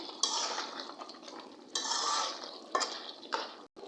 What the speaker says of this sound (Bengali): এখন আবার ভালো করে কষিয়ে নিব আলু একসাথে